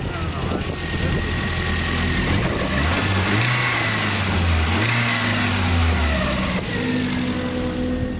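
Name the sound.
car engine revving at a track day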